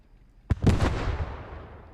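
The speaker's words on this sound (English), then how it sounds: "he gets taken out by a heavy ordnance cannon blast" A heavy ordnance cannon shell blasts in the Post Scriptum war game: one sharp, loud detonation followed by a rumbling, rolling boom that slowly fades.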